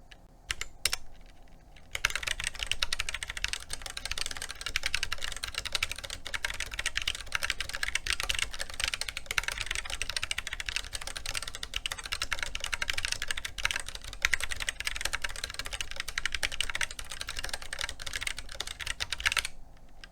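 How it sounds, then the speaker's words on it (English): Typing on a mechanical keyboard fitted with Gazzew Boba U4T tactile switches, a steady close run of muted thocky keystrokes with no talking. "same keyboard, just with the U4T switches."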